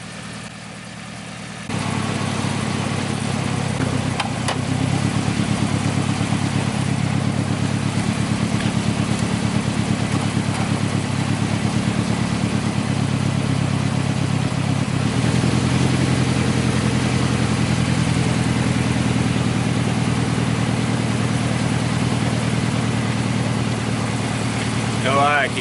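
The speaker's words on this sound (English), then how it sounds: "I keep hearing a rod knock." A Nissan 240SX drift car's engine idles steadily close by, with a possible rod knock in its low, even running; it starts after a brief quiet moment and carries on alone.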